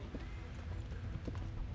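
Horse hooves clip-clop steadily on the ground in the medieval game Kingdom Come: Deliverance, a soft, even rhythm at moderate distance over low ambient rumble.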